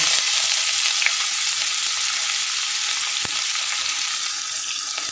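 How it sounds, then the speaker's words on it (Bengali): Chopped onion hits hot oil in a pan with bay leaf, producing a steady, close, crackling sizzle that continues evenly with an occasional stir and no voices. "এবার আমি পেঁয়াজ কুচি দিয়ে দেবো"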